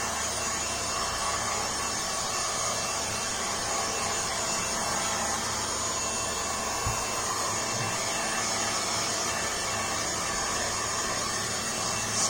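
Hair dryer blowing steadily and loudly on a decoupage glass bottle, a constant broadband whoosh that holds without pause for about twelve seconds.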